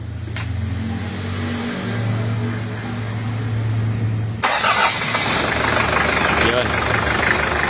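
A car engine cranks and catches after a battery replacement; a low steady hum gives way to a louder rough idle, with people talking nearby.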